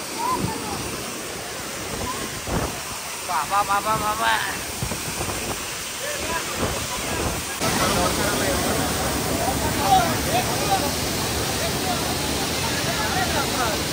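A waterfall gushing at full pressure at a crowded dam site, a loud continuous roar of rushing water with wind buffeting, heavier in the second half, under a voice repeatedly calling out.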